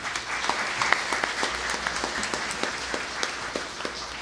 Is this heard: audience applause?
yes